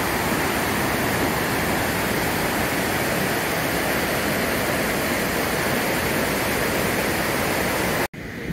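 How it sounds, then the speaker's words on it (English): Loud, roaring river rapids in a Norwegian mountain area near Olden, a dense continuous rush of white water, close and steady throughout with no voices, cutting off abruptly near the end. "Wow, like the River Rapids."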